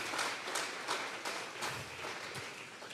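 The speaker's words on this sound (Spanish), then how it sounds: "Vamos a regalarle ofrenda de palmas al Dios de la gloria" Congregation clapping hands in rhythm during a Sunday church service, a steady, fairly faint patter of many palms with regular accents, no voices.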